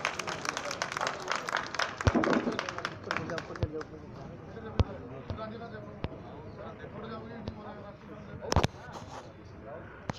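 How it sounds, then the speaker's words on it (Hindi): Scattered applause from a gathered audience at a public project inauguration in Safidon, with sharp individual claps and some loud bangs over murmuring crowd talk, fairly distant. "ये तालियां रुकनी नहीं चाहिए।"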